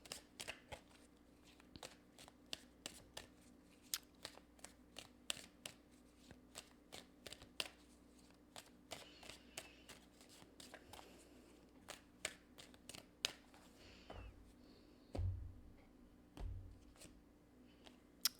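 Tarot cards being shuffled and drawn for a love reading, with a steady run of crisp riffling flicks and slaps close by, then a few softer, heavier taps near the end, no voices.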